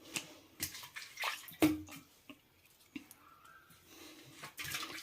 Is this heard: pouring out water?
yes